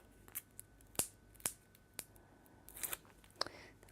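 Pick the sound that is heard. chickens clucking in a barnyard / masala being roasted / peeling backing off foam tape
peeling backing off foam tape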